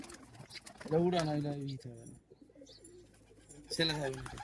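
Low, throaty cooing from young Madrasi pigeons in two bursts separated by a quiet gap, close by.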